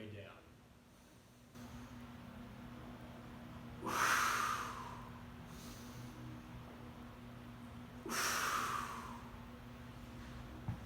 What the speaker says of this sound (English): just always make sure that you exhale on the way up